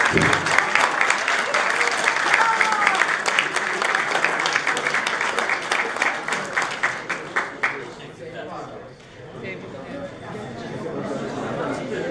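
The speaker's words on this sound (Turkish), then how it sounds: "Evet, alkış bekliyoruz." Audience applause at the 30th Troya chess tournament award ceremony: dense, close clapping runs for about eight seconds, then thins out into murmuring crowd chatter.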